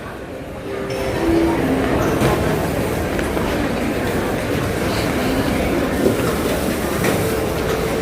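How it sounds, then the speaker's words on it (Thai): An electric skytrain rumbles past with steady broadband roar and faint wheel squeals, fairly close and loud throughout. "รถไฟฟ้า"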